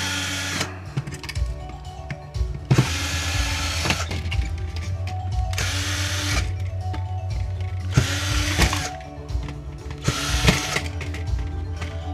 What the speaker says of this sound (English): One of the best scrapping tools ever. A 6-in-1 screwdriver.